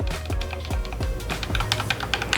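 Game controller back paddles clicked rapidly, a steady run of small plastic taps up close with no talking.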